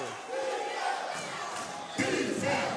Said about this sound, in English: Crowd gets loud here at Moore Gym.